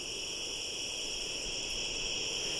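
Crickets chirping at night in a lakeside cemetery, a dense, continuous high trilling chorus with frogs, steady and unbroken, moderately distant with no other sounds.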